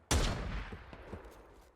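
A single heavy burst of gunfire booms in a night battle in a video game, then rolls into a dense rumbling tail with faint scattered pops.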